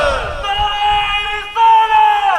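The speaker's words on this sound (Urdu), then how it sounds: "تینوں نعرے لگاؤ، نعرے تکبیر سے شروع کرو" A crowd at a religious gathering loudly chants Allahu Akbar in unison, sustained voiced shouts rising together, with a short break before a second strong swell.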